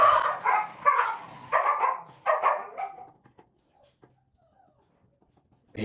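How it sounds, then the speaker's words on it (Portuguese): Several dogs bark and snarl in a chaotic fight at close range, overlapping yaps and growls in bursts over the first three seconds before fading to near silence with faint scattered sounds. "tem vários cachorros e eles acabaram de dar um caos aqui."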